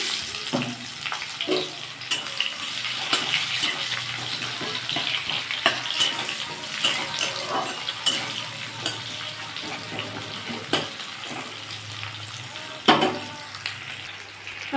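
Chopped onion and a little tomato sizzle in hot oil with tempering spices in a pan. A steady, watery frying hiss goes on throughout, broken by occasional louder pops and crackles.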